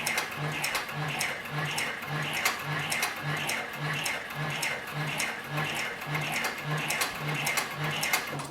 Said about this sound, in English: We'll turn the material 90 degrees and then continue sewing.